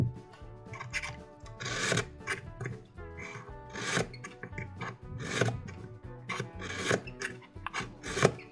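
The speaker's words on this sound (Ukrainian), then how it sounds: "Зараз я заточу ще цей, глянемо, як він ріже" A knife is drawn repeatedly through a ceramic sharpener for knives and scissors, producing close, sharp rasping strokes in an uneven rhythm, each pass a short gritty scrape.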